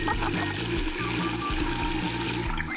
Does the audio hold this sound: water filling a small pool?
yes